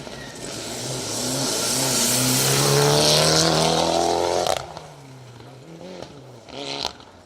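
A Mitsubishi Galant VR4 Group A rally car on a Trackrod Rally stage revs hard as it approaches, its engine note climbing loudly before cutting off as it passes, then fades away with a brief later blip.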